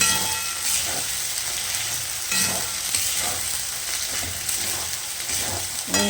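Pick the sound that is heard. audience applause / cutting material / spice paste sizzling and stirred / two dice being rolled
spice paste sizzling and stirred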